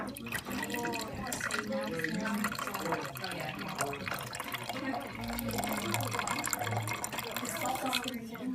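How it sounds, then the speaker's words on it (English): Salty water is poured out of a beaker that still holds sand, giving a faint, trickling splash under a steady background hiss, with a person talking over it. "we're gonna pour the salty water out of the beaker and leave the sand in the beaker."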